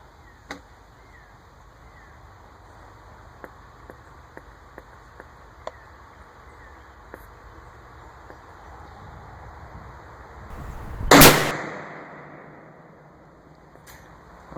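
A single loud rifle shot from an Alamo Precision rifle at a shooting range, a sharp blast with a short decaying tail, preceded by faint scattered clicks and light ambient noise, no talk.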